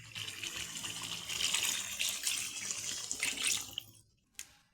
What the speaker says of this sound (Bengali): এখন আমি পরিমাণ মতন জল দেবো।